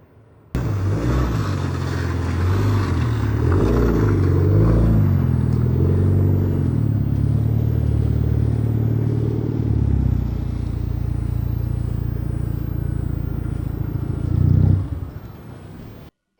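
A turbocharged AWD Dodge Stratus Coupe engine starts abruptly, then revs loudly and deeply through a new exhaust, rising and falling in a sustained drone, with a final surge before it cuts off.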